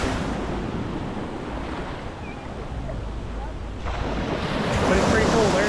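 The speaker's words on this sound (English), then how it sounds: "Big waves crashing." Big ocean waves crash onto a rocky shore at Bimini in a steady, loud roar, with wind buffeting the microphone and the surge building toward the end.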